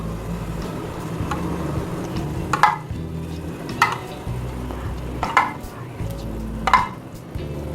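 Yogurt being stirred into a masala fish curry over low heat, a soft wet scraping and sloshing with several distinct knocks of the spoon against the pan, close and moderately loud over a low background hum.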